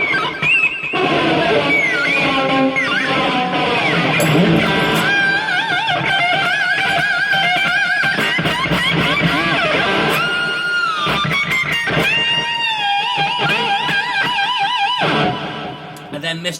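Loud electric guitar solo, with bent notes wobbling in wide, slow vibrato and re-picked, sliding between pitches over a busy, dense backing.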